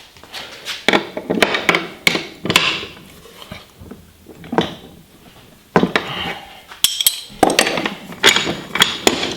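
Metal tools clanking and tapping while a wrench works on a Craftsman floor jack being restored after more than 20 years, using a 3/4 inch wrench; repeated close clinks and knocks in irregular bursts with short pauses.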